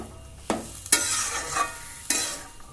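Turmeric and salt are stirred into Malabar spinach fruit cooking in a pan: loud close scraping strokes over a sizzling fry, with several sharp sweeps in irregular rhythm.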